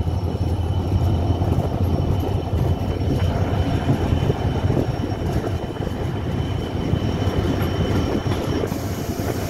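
Steady, loud rumble of the Rupashi Bangla Express crossing Padmabila junction on the Khulna route, a continuous roar of wheels and carriage without a break, with no one speaking.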